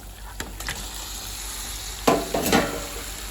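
Chicken pieces dropped into a pan of softened frying tomato and onion for a chicken curry set off two sudden bursts of sizzling over a steady low fry, with light stirring clatter earlier.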